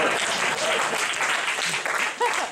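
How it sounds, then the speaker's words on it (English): Audience at a Christian comedy show breaks into dense, loud clapping that fills the whole moment, with a few voices and cheers mixed into the crowd noise. "you're going to clap for that"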